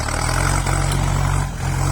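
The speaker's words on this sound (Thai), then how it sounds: "เอฟซีรถไถรถดันดินรถแท็กเตอร์ครับนี่" A Yanmar EF494T tractor pushes a heap of sticky clay soil, its diesel engine droning loudly and steadily up close with a low rumbling throb and mechanical clatter, no talk.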